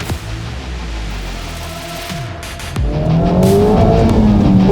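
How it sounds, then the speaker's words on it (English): Toyota GR Corolla spinning its wheels on a race track, its engine revving hard with a rising pitch and tire squeal, loud and close throughout with no voices. "Oof, bit of wheel spin there."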